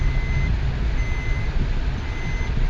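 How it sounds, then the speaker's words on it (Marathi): While a car is being parked at Kanifnath Gad, a thin, steady electronic reversing beep repeats over a loud engine rumble and broad outdoor noise. "आता आपण इथं गाडी पार्किंग करणार आहोत."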